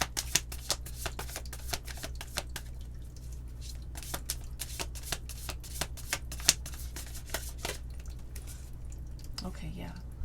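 Tarot cards being shuffled in repeated quick riffling bursts, close and steady throughout, over a low background hum, with a brief soft vocal sound near the end.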